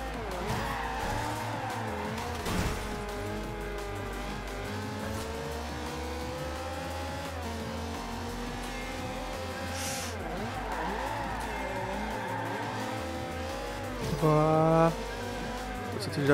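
Race cars roar and rev through a race in Forza Horizon 2 with sustained engine drone, shifting pitch and tire squeals, a person talking over the action throughout.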